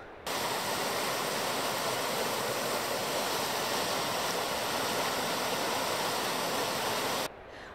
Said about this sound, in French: vu le bruit, en fait, c'est plutôt un torrent